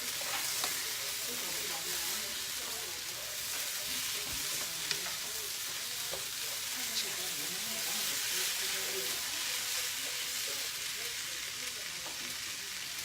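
Sausage sizzles steadily in a paella pan, a constant hissing crackle with occasional stirring scrapes, heard close and at moderate loudness, with faint voices underneath.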